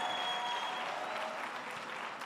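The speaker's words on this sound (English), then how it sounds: "Let's give a warm round of applause for Mr. Mokhotane, everybody." Steady audience applause fills the room at an event, a dense continuous wash of many hands clapping that fades slightly toward the end, with no talk over it.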